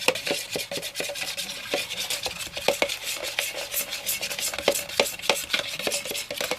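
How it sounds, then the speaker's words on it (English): A bone folder stirs thin glue in a small container, making a steady run of close scraping and tapping strokes in a quick, uneven rhythm, with no voice. "I'm just going to use my bone folder to mix it."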